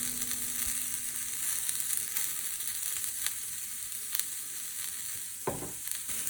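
Shredded cabbage sizzles in a pan of vegan rice-noodle stir fry, a steady loud crackling hiss with scattered pops and a brief scrape of stirring near the end.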